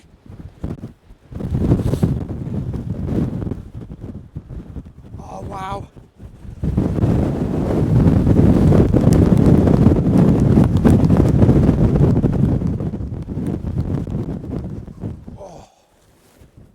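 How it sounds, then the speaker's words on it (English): Strong coastal wind on the Cornwall coast roars and buffets the microphone in loud, sustained gusts, with a brief exclamation from a voice partway through. "I just wish it wasn't so freaking windy."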